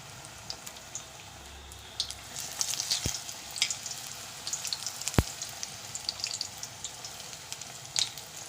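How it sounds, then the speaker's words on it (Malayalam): Spinach pakoda vada coated in batter fry in hot oil with a steady, fairly soft crackling sizzle close up, broken by two sharp clacks and scattered spatters. "പാലക്ക് എടുത്ത് ദാണ്ട ആ ബാറ്ററിലേക്കിട്ട് ഇതെല്ലാം മുക്കിയെടുത്ത് എണ്ണയിലേക്കിടാം"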